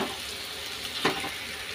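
Mashed boiled potato goes into paneer masala already frying in oil, a steady close sizzle broken by one soft, heavy plop as it lands.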